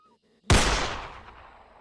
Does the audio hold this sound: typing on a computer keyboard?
no